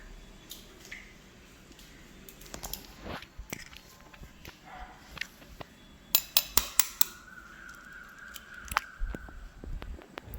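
Five eggs cracked open and poured into a bowl for a cooker brownie: soft taps, shell clicks and wet drips and squishes, close and quiet, with a short run of sharper knocks midway.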